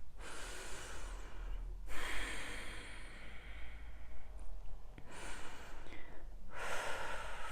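Forceful breath-of-fire breathing exercise: a long run of rapid, rhythmic nasal exhales, loud and close, broken by a few brief pauses and deeper breaths, with no talking.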